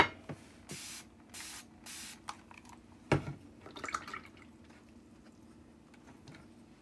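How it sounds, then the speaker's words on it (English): Water misted from a spray bottle onto acrylic paint: several short, close hissing bursts in an uneven rhythm, followed by faint drips and light handling noises in a quiet room. "I've just sprayed water into my acrylic."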